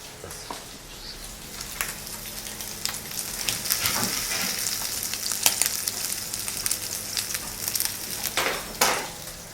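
Guanciale frying in a pan in a Roman kitchen, a steady dense sizzle and crackle running throughout with occasional louder pops and spits.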